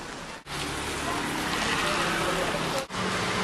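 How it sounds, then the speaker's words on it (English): Steady rain falls in Florence, a dense continuous hiss of drops broken by two brief pauses, close and fairly loud. "Hey, update, it's still raining."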